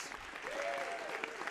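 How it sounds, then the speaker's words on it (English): An audience at a White House poetry event claps in steady, sustained applause, a dense wash of hand claps filling the moment without a break. "Give them all a big round of applause."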